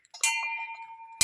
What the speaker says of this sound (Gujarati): જુઓ મિત્રો શ્રેવ ઘંટી વગાડશે